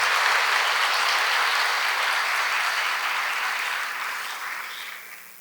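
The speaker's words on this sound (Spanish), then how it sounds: "creo que se merece ese aplauso." Audience at a panel discussion applauds steadily in a dense wash of handclaps that holds level, then gradually thins and fades toward the end.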